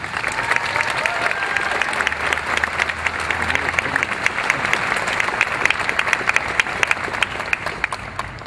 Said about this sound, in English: So please give my colleagues on the faculty a round of applause